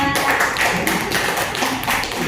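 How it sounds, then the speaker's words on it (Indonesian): A group of people clap together for a presenting group in a classroom session, with dense, steady applause lasting a couple of seconds at close range. "Aplaus untuk kelompok 2."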